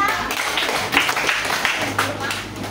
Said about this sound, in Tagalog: Bigyan natin ng tatlong palakpak